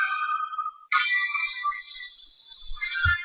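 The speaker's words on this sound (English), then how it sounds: "that must be your ringtone" A phone ringtone plays loud and alone: a bright electronic melody that pauses briefly, then sounds as one sustained tone, with a few faint low knocks near the end.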